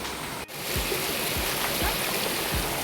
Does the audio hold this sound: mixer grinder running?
no